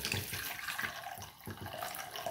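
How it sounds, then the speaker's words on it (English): Slightly warm water is poured over Camellia sinensis (tea plant) seeds being soaked for germination, giving a steady, close splashing trickle with no voices. "So I have my water. I'm gonna pour it on top."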